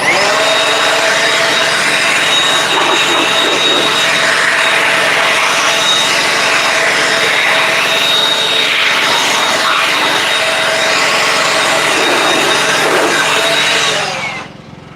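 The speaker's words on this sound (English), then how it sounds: "using one of these blowers to see how quickly you can dry it off" A loud, steady high-pitched whine of a powerful air blower drying a car runs continuously, then cuts off abruptly at the end.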